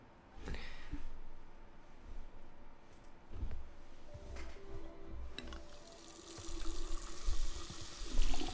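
Water runs steadily from a tap during washing in the video game Life is Strange 2, a continuous splashing rush that swells louder toward the end, with no talking.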